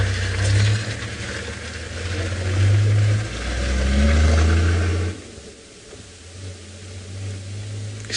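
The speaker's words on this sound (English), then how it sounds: "It's just one of those things that happen here when you get a lot of cars on a main road." Traffic on a main road beside the bush at a safari reserve, loud engine drone rising and falling as vehicles pass, easing off briefly before building again, with no talk.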